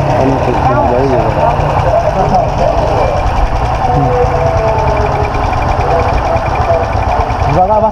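A new motorcycle's small engine runs with a low, uneven rumble and revs gently as the rider pulls away, while someone talks over it.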